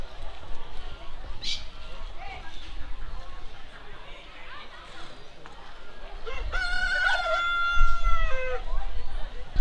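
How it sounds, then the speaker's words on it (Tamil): Roosters and chickens at a tourist spot in Yercaud, with a loud cock-a-doodle-doo crow rising near the end over steady outdoor background noise and a few scattered clucks; people talk faintly in the background. "டிஃப்ரெண்ட் டைப்பான கோழிங் தான் இருக்குது."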